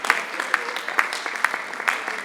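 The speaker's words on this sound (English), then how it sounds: "a round of applause for her." Audience applause at an academic writing workshop, a steady wash of many hands clapping with no one speaking, fairly close and moderately loud throughout.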